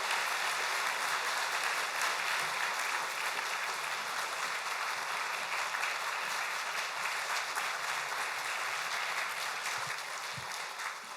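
A church congregation claps warmly to welcome a guest speaker at a Sunday worship service, a dense and sustained round of applause that fills the hall, easing off slightly toward the end.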